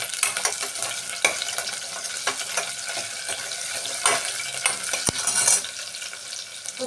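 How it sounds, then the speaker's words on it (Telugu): Mustard seeds and cumin crackle and sizzle in hot oil in a pan for a Rayalaseema-style fenugreek-leaf dal, a dense spitting hiss with sharp pops and the scrape of a stirring spoon, close and loud. "ఆవాలు జీలకర్ర వేగిన తర్వాత"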